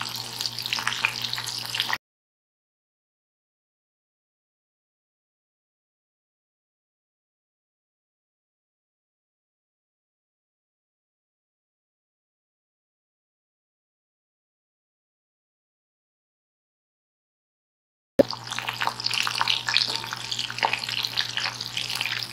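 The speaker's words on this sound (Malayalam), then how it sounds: "മീഡിയം ടു ലോ ഫ്ലെയിമിൽ ഇട്ടിട്ട് വേണം നമ്മളിത് ഫ്രൈ ചെയ്തെടുക്കാൻ" Rice flakes coated shrimp frying in oil over a medium to low flame, a close, even sizzle heard in two short stretches separated by a long silence.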